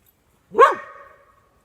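A single sharp, close bark from a dog during a chase rings out loud and then tails off quickly into silence.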